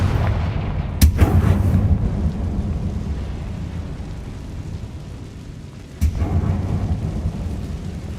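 Confringo fire spell explosions in Hogwarts Legacy: two loud booming blasts about five seconds apart, each followed by a rumbling roll that fades away.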